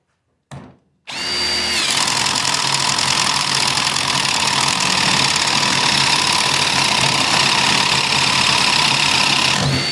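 Ridgid Stealth Force cordless driver, on a fully charged 2 amp-hour battery at speed 3, boring with a 1-inch Spyder bit: a brief blip, then a steady, loud, continuous whine with bright harmonics running nearly ten seconds, no talk.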